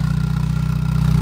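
Exhaust note of a VW Gol G3 Rallye fitted with an aftermarket exhaust tip: a close, steady idling burble with a fast, even low pulsing and no voices.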